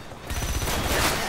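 Gunfire in the video game Left 4 Dead 2, a dense loud burst of rapid shots running continuously.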